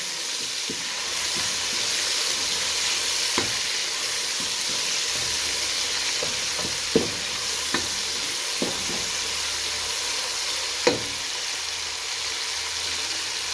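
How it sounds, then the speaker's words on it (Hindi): Garlic and tomatoes fry with a steady sizzle in a pan, with occasional clinks and stirring taps, close and continuous, no voices. "तड़का लगाया लहसुन का।"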